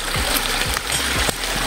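Rushing water of a small, strongly flowing stream in the open, a close and continuous wash with a few splashy bursts and no talk over it.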